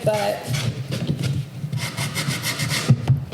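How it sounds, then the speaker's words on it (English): Wood edge being hand-sanded to round off sharp corners, a steady close scratchy rubbing that continues throughout with rhythmic strokes, with faint voices in the background. "we just want to kind of sand out the edge so you don't have any sharp corners."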